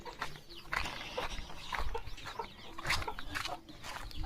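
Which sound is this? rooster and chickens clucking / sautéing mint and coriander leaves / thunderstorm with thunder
rooster and chickens clucking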